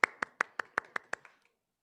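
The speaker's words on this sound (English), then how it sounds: "Let's start things off with a big round of applause for Steven" A lone person claps for a guest at an online science session on bugs, about eight crisp, evenly spaced claps that fade and stop after a second and a half, close and alone.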